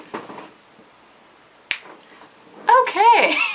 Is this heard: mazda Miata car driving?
no